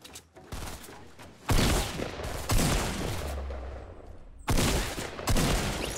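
Bursts of video game gunfire crack out in loud volleys, with sharp onsets near 1.5, 2.5 and 4.4 seconds and a dense rattling tail between them, heard up close with no speech.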